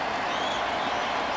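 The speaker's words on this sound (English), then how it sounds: "So a small, wet but lively crowd urging Maine on." A small, rain-soaked but lively crowd at a baseball game sends up a continuous wash of cheering and applause from the stands, steady and moderately loud with no clear single voices.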